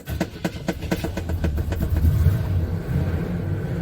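A 1978 GMC truck with a 350 engine cranks with rapid rhythmic starter pulses, then catches and settles into a close, steady low rumble.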